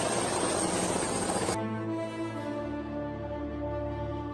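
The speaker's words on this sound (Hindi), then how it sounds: "यहाँ पे हेलीकॉप्टर दिखाता हूँ।" Helicopter-like rotor and engine drone in a Hindi film scene, a loud broadband roar for the first second and a half that then drops to a steady, humming mechanical whir with tonal engine lines, continuing alone without speech.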